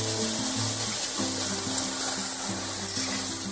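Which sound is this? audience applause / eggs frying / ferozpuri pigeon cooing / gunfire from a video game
eggs frying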